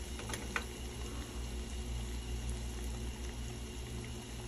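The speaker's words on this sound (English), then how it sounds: "I'm gonna let this simmer for just a minute" Rockfish simmers in a pan on a stove at medium-high, giving a steady low bubbling hiss with faint occasional pops, quiet and continuous with no voices.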